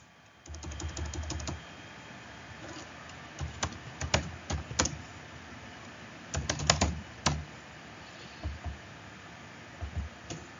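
Someone types on a computer keyboard in irregular bursts of close, crisp key clicks separated by brief pauses, with no voices.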